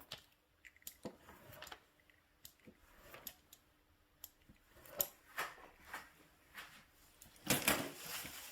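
A knife cutting freshly made kaju katli into pieces on a board, with a series of soft, close taps and clicks at irregular intervals, ending in a brief louder clatter.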